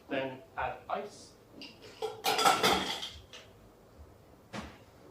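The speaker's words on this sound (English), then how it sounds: "Then add ice." Ice drops into a mixing glass for an Adonis cocktail, making a series of bright clattering clinks. The biggest rattling burst comes midway, then a last short clink, all close by.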